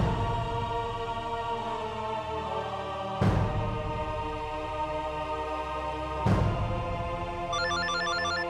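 A telephone rings in an office with a repeating electronic bell tone, the rings sustained and fairly loud, with a sharp louder burst roughly every three seconds and no talking.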